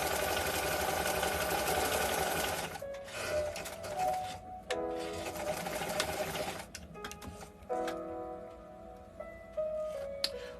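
A vintage sewing machine runs steadily at close range, a dense continuous mechanical whir with ticking, slowing and pausing a few times before starting up again in short bursts.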